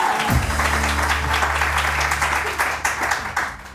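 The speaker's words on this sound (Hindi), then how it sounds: "बहुत सारी तालियां डॉक्टर महबूब के लिए।" A morning TV show studio audience claps for a guest, a short burst of full, even applause over background music that starts to thin out near the end.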